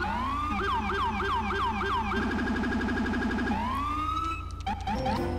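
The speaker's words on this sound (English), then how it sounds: "we do have the sirens, which is pretty cool" A loud police car siren in Grand Theft Auto V wails close up, cycling through rapid yelps and then a longer rising wail, with no talking.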